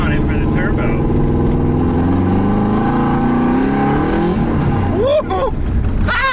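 A turbocharged LS V8-swapped Mazda Miata accelerates hard with no tune, a loud close engine roar climbing in pitch through gears, followed by a sharp shift, while people talk over it.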